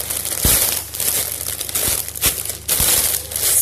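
Plastic packaging crinkles and rustles close by as a squishy toy is pulled out, with several sharper crackles and no speech.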